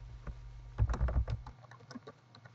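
Short burst of typing on a computer keyboard, several quick close key clicks clustered together and then a few lighter taps as the typing trails off.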